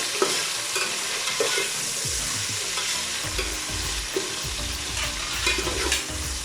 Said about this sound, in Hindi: तो चलिए पहले इसे हल्का सा फ्राई कर लेते हैं इन चीज़ों को।